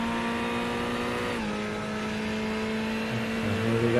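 Race car engine in a GT racing video game at Fuji, a loud steady high-pitched drone held under heavy throttle, dipping briefly at a gear change and then pulling on again, close and continuous with no voices.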